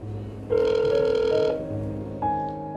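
A phone rings out in the small hours as a wife calls her absent husband, two clear electronic ring tones with a short gap between them, fairly close and with no talk.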